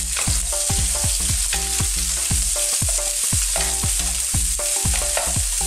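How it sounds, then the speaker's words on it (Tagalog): Garlic and onion sizzling and frying in cooking oil for pork pinakbet, a steady close sizzle broken by repeated rhythmic scraping and stirring of the pan, with no talk. "So ilalagay muna natin ang bawang at ang onion. Gisayin lang po natin."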